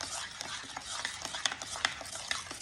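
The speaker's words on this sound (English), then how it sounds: "Then we're going to mix this together so we get it nice" Chocolate chip bread batter is stirred in a bowl, a close, steady wet scraping and swishing with small clinks of the utensil against the sides.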